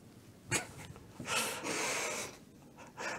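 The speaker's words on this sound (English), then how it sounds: "I'm going to blow my nose" A person blows their nose in a few soft, breathy bursts: one short snort, then a longer sustained blow and a final shorter puff, quiet and close to the microphone.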